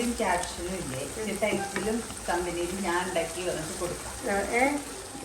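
Food in a cooking pot bubbling vigorously at a rolling boil, a steady close sizzling churn heard under a voice speaking.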